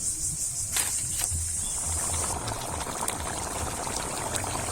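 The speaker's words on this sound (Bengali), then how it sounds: "এখন জল দিয়ে দিচ্ছি" Water poured into jackfruit curry simmering in a pan, a steady close hiss and bubbling wash that runs the whole time without a break.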